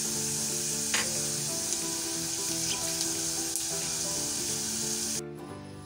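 Steady, loud sizzling of cumin seeds frying in hot oil, with a few faint scrapes, before the sizzle drops abruptly near the end.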